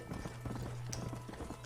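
Steady rhythmic clip-clop of a galloping horse's hooves in the Western video game Red Dead Redemption, loud and close over a constant low hum.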